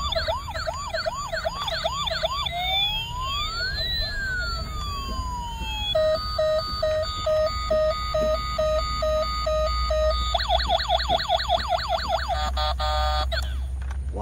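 An electronic toy siren cycles through several wailing, yelping and warbling patterns, loud and continuous, with a low hum underneath.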